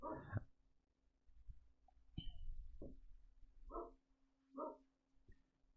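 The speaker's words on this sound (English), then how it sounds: "Dog is barking" A dog barks and yips in short separate bursts, several spaced over a few seconds against a steady low electrical hum, fairly distant and quiet with no talk.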